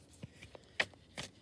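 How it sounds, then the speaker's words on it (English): Tarot cards being shuffled by hand, a few soft papery riffles and slaps spaced irregularly, faint and close, with no talk. "I'm going to go ahead and shuffle these cards"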